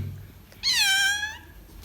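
A pet cat answers when called with a single clear, rising-and-falling meow at close range, standing out against a quiet room.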